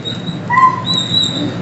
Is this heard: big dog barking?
yes